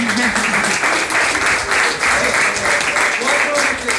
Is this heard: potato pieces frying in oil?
no